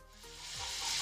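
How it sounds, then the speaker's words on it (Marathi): Dal sautéing in a hot pan gives a steady, close sizzle with faint stirring scrapes, growing slightly louder and brighter toward the end. "आता आधी आपण ही डाळ परतून घेऊया."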